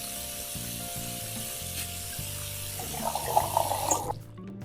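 Water runs steadily into a pot in the Cooking Simulator video game, a soft continuous stream under a low repeating musical background, swelling briefly louder before cutting off near the end.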